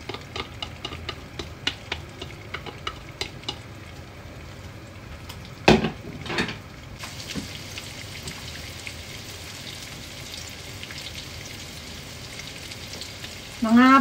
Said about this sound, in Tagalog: Lalagay na natin itong ating marinade.